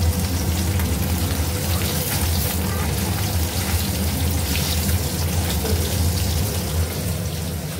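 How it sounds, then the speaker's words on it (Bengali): Fish frying in a pan in a home kitchen, giving a loud, continuous close sizzle and crackle that runs without a break and with no talk over it. "চলো মাছটা ভেজে নিই।"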